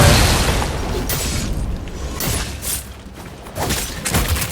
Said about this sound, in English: that is basically just a launcher bomb that deals damage